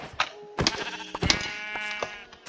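Sheep in Minecraft bleat three times in quick succession, close and clear, each cry a wavering nasal call with no talking over it.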